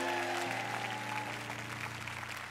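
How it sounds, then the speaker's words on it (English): A church congregation applauds Dr. Anderson, with fairly quiet, steady clapping over sustained organ or keyboard tones. "Come on, give Dr. Anderson an amazing applause"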